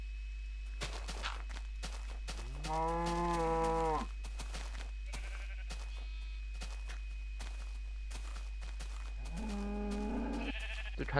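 Cows in Minecraft give two drawn-out, harmonic moos, one in the middle and a shorter one near the end, over a steady low hum and scattered clicks.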